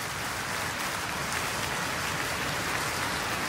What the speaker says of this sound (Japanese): アンコールの拍手